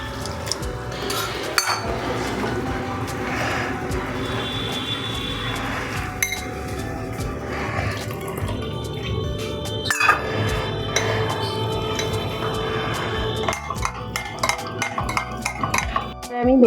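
Flour and water being mixed into batter in a bowl for vegetable chops, with steady wet stirring and frequent light clinks of utensil against the bowl throughout.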